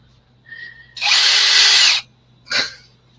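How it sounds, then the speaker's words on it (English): A power drill with a mixer attachment whirs loudly for about a second, with short bursts just before and after. "You got a mixer for your drill"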